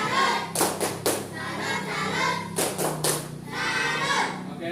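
A primary school class performs a tepuk salut clapping chant: a few sharp group claps in rhythmic bursts, with children's voices chanting between them in a classroom.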